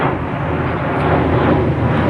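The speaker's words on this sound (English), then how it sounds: "There goes a plane." Steady, broad rumble of an airplane passing overhead above a backyard vegetable garden, loud and continuous throughout with no talk over it.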